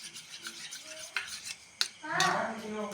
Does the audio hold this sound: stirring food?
yes